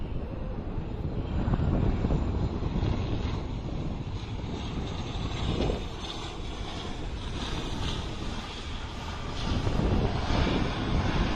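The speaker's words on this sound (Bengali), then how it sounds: "এগিয়ে আসছে বিমান বাংলাদেশ এয়ারলাইন্সের ছোট বিমান" A small Biman Bangladesh Airlines plane approaching to land on the runway at Hazrat Shahjalal International Airport in Dhaka, a steady broad engine roar that swells slightly near the end, blended with wind noise on the microphone.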